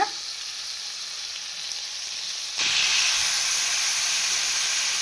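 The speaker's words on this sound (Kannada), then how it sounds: "ಒಂದು ಎರಡು ನಿಮಿಷ ಇದು ಕಡಿಮೆ ಉರಿಯಲ್ಲಿ ನಿಧಾನಕ್ಕೆ ಬೇಯಲಿ" Cucumber masala for a North Karnataka dish cooking on a low flame in a pan, a steady soft sizzle and hiss that jumps louder partway through and then holds evenly, close by with no talking.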